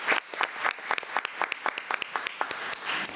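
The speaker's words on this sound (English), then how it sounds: "So let's give another round of applause for Ms. Felicia Presley." Sparse applause at a school board meeting, a modest audience giving distinct, fairly quiet individual claps in an uneven rhythm, with no talking.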